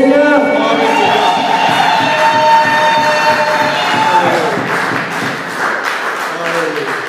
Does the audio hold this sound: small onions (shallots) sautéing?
no